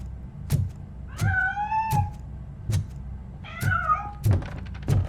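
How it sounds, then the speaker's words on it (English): A cat in the video game Robocop: Rogue City gives two drawn-out, rising-and-falling meows, set between sharp thumps and knocks, loud and close with no talk. "The cat is fine."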